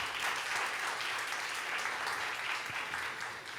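Applause rises from a church congregation during a Spanish-language sermon, a soft but steady wash of many hands clapping together for a few seconds, without any voice over it.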